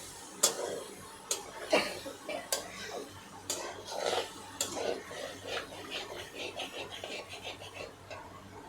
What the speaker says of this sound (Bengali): পনিরটাও এর সঙ্গে একটু নেড়েচেড়ে ভেজে নেব।